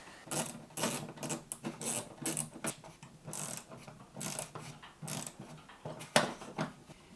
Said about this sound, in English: this small ratchet is really handy when you're working in tight spaces